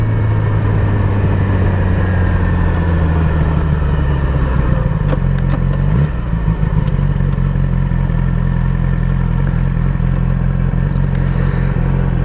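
A Yamaha R6 motorcycle rides through Singapore, its engine a loud steady drone that shifts pitch around the middle, with wind and road rumble throughout and no voices.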